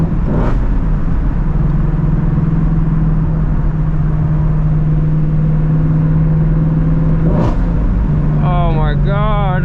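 A Shelby GT350 runs at a steady drone through a night drive in the rain, its engine loud and close throughout, with a couple of brief sharp bursts and a rising rev toward the end.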